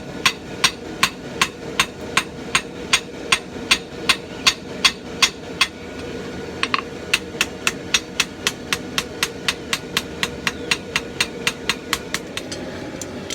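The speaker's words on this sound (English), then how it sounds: "So I got my dog's head hammer." A dog's head hammer strikes a forged blacksmith's knife in a steady, sharp rhythm, loud and near. About a dozen ringing blows fall, then a short pause and a quicker run of strikes.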